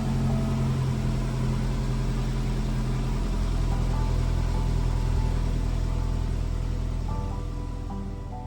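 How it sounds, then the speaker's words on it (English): A Saab 900 Turbo, stored for six months, runs with a steady, loud engine rumble and a low idle drone throughout, a slight rise in pitch toward the end. "and now we can start it"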